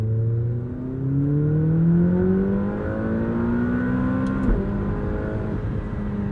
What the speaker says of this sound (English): If I accelerate here from low revs, you'll really see the crescendo in power that we experience.